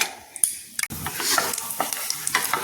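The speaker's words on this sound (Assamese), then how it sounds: "এয়া প্ৰথমতে মই বাদাম কেটা ভাজি লৈছো" Peanuts frying in ghee in a pan on a gas stove over low flame, a steady close sizzle with scraping stir strokes and a few sharp utensil clicks, no voices.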